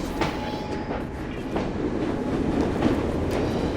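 Train wheels rolling over rails in Assassin's Creed Syndicate, a steady rumbling run with rhythmic clickety-clack joints and occasional sharp clanks, loud and continuous.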